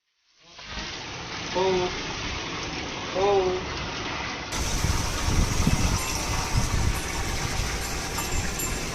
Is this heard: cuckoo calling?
no